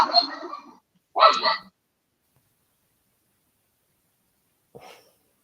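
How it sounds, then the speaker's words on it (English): A dog barks twice in short, loud bursts close by early on, then gives a fainter, brief bark after a long quiet stretch, during an indoor conversation. "There goes the dog."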